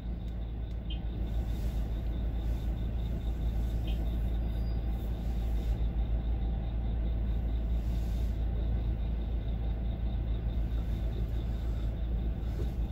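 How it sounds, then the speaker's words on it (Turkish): Car rolling slowly downhill in heavy city traffic with the brake released, giving a steady low engine and road rumble from inside the cabin, continuous and fairly loud with no talk. "Sadece freni bırakıyorum. Aracımı kaydırıyorum."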